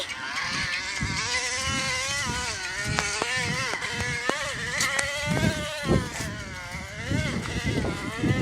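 A small go-kart engine revs and drones nearby, its pitch rising and falling steadily as it drives, with wind and handling noise mixed in.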